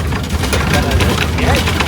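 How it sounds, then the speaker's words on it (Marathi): An MSRTC state transport bus rattling as it drives, with a constant loud rumble and dense clatter of loose panels and windows, and passengers' voices blending into the noise. "खडबडत खडबडत येत आहे आवाज"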